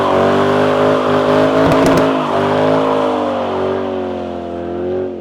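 The 3-valve V8 exhaust of a 2005–2010 Ford Mustang rumbles loudly and steadily, its deep burbling tone swelling briefly before settling and fading slightly toward the end.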